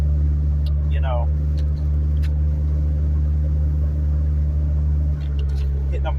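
Cabin drone of a 1991 Honda Civic LX sedan on the move: a steady low engine and road rumble throughout, with a few faint chirps and clicks on top.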